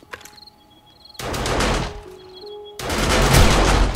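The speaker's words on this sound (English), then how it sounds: "Why are the gun turrets on?" Automatic roof gun turrets open fire in the survival game 7 Days to Die, two loud bursts of rapid, dense shots roughly a second apart, with a quieter stretch between and faint tonal game sounds beneath.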